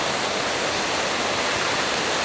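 A waterfall in the Otway rainforest roars as a dense, continuous rush of falling water, loud and steady throughout with no other sound standing out.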